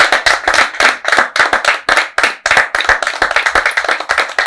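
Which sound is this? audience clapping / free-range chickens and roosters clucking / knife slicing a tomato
audience clapping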